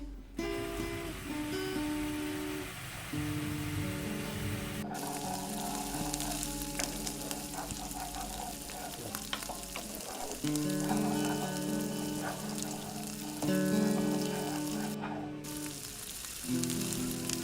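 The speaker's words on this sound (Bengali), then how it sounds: "আরও দু তিন মিনিট মশলাটাকে খুব ভালোভাবে কষে নেব" Spice paste for mustard-poppy pabda fish fries in a pan with a continuous crackling sizzle, running steadily beneath tonal background music.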